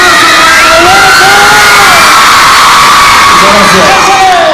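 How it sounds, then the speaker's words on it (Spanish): A large crowd at a shopping plaza show in Valle de Chalco cheers and shouts loudly throughout, with whoops and yelled voices rising and falling in a dense, continuous roar. "yo pido un fuerte aplauso para la"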